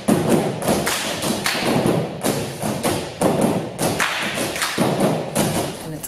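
Unaccompanied clog dancing by a clogging team: dense, rapid percussive foot taps and thuds on a hard floor, continuous rhythmic stepping with accented beats, close and loud, no music or voices.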